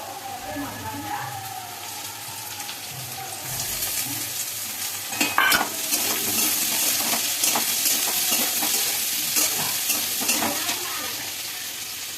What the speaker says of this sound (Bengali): আলুগুলোকে এখন ভালো করে ভেজে নিচ্ছি